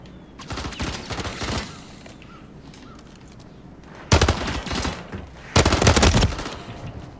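Automatic weapons fire in the video game Modern Warfare III comes in three loud bursts: a rattling stretch early on, then two sharper, heavier volleys after quieter gaps.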